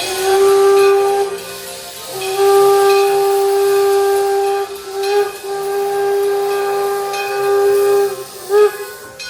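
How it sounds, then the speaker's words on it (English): A Baldwin Locomotive Works steam locomotive built in 1897 sounds a loud, sustained steam whistle in long blasts, broken by brief gaps, over a steady hiss of escaping steam. "The Baldwin Locomotive Works steam locomotive was built in 1897"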